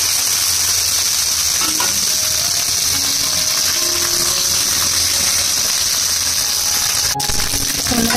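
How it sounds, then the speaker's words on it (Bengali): Pomfret fish fries crispy in hot oil in a pan, a continuous close sizzle and crackle with a few clinks of a utensil near the end. "ভালো করে একদম ফ্রাই হওয়াটাই ক্রিস্পি ক্রিস্পি ফ্রাই হলে খেতে ভালো লাগবে"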